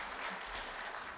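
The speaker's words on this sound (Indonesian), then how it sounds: "Beri tepuk tangan UMP Purwokerto." An audience applauds at a university gathering in a brief, steady wash of distant clapping that fills the room evenly.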